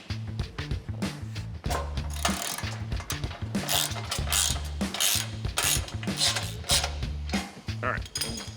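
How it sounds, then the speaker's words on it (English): An old adjustable jack stand is ratcheted under a Chevrolet C10 truck frame during shop work, with repeated loud, close metallic clicks in quick uneven bursts that run almost without a break. "I'm gonna use my old adjustable jack stand here."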